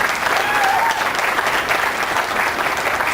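Steady, dense applause from a convention audience at the Las Vegas Club, loud and continuous throughout with no pauses, filling the room from close by.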